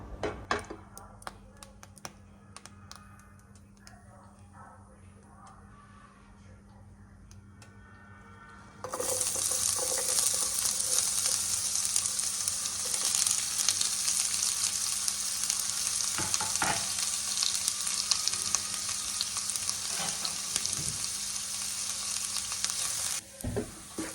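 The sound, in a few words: onions frying in oil and ghee for pav bhaji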